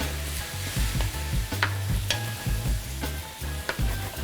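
Turkey and about a cup of light beer simmer in a pan, loud sizzling and frying with repeated scraping stirs, close and steady with no talking.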